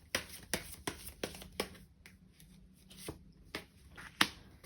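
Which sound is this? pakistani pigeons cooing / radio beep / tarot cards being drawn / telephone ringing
tarot cards being drawn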